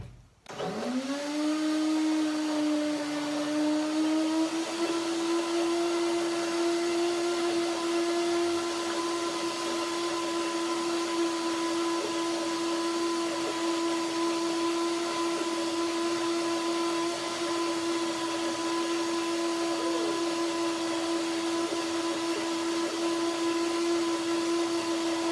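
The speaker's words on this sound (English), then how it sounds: "So just a little bit more water just for the blender." A blender running with date mousse, raspberry, banana and water over the blades starts abruptly and then holds a loud, steady motor whine for the full stretch with no talking.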